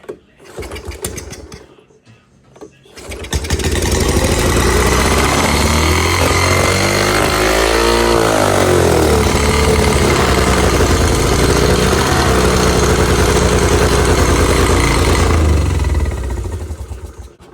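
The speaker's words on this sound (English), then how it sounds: "All right, Hank, I'm gonna start it up again." A 40-year-old Honda ATV engine sputters briefly, then starts and runs continuously at a loud, close idle with an uneven, revving putter that rises and settles before cutting off near the end.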